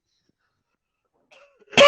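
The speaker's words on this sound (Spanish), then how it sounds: "Perdón por la interrupción, estaba con un poco de tos." A single abrupt cough bursts out loud and close near the end, after near silence and a faint vocal sound, from a presenter during an online telerehabilitation webinar.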